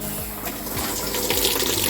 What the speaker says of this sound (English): the machine lets hot water into the basket